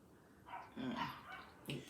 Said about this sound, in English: That dog start barking. Oh, it sounds like some dogs fighting.